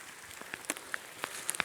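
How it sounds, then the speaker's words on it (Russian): Rain falling in a forest during a mushroom-picking outing, scattered drops ticking sharply on leaves and surfaces in an irregular patter, close and fairly soft, with no voices. "Попали под дождь с женой."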